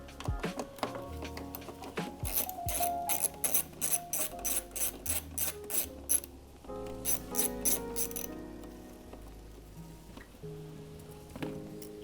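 A ratchet backs out the two 8mm bolts holding a taillight to a vehicle frame during an HRS sequential taillight install. Close, rapid clicking comes in two long bursts, with a steady tonal background between them.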